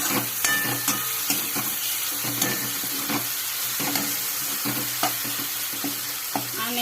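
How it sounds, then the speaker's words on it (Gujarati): A hot tempering sizzles and crackles as it is poured over Kathiyawadi khichdi made with moong dal, rice and brinjal, a steady close frying hiss with light stirring clinks throughout. "એની ઉપર આપણે આ વઘાર કરીને નાખી દેવું"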